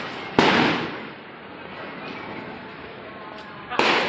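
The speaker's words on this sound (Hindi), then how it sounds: "चारों साइड से पटाखे की आवाज़ आ रहा है सब।" Diwali firecrackers going off outdoors with friends, two sharp loud bangs at the start and end, with crackling noise and distant crackers in between.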